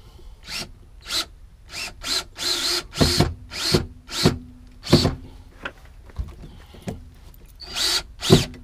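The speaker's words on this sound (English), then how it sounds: "Just got two more screws to put in." A power drill drives screws into a glued cargo door ball bracket in a series of short, loud, close whirring bursts, each stopping abruptly, roughly a dozen in quick irregular succession.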